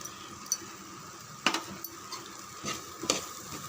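Chicken curry masala being stirred in a pan, with a soft scraping of the spoon against the metal and a few sharper clinks at intervals, over a faint sizzle. Quiet and close, with no voices.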